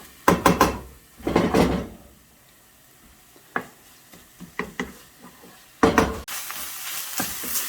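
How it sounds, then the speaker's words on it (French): Ketchup sauce sautéing in a pan gives off short bursts of sizzling and stirring scrapes with clinks, close by, separated by quieter gaps, with no talking. "Et on va faire revenir quelques minutes encore"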